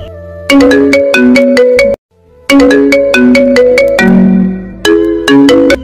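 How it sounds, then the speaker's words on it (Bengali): A loud electronic mobile phone ringtone plays a bright, repeating melody for an incoming call, pausing briefly before the tune starts again. "হঠাৎ করে একটি অচেনা নাম্বার থেকে ফোন আসলো।"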